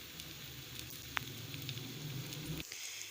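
Makhandi halwa roasting in a pan, a steady soft sizzle and faint crackle close up, with a single sharp clink of a spoon partway through; no talk.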